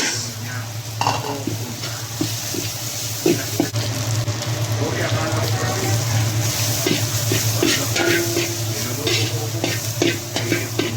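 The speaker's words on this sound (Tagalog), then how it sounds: "Gisa tayo ng bawang, loya at saka sibuyas." Garlic, ginger and onion sautéing in a pan: a steady loud sizzle and frying hiss throughout, with repeated spatula scrapes and stirring clatter on top, no voices.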